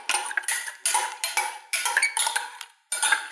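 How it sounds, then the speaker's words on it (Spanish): Utensils scrape and clink against a bowl while mixing a noodle, fruit and ham salad with mayonnaise, a close run of irregular clattering strokes with short pauses between them. "Ya se han mezclado todos los ingredientes, ahora vamos a mezclar."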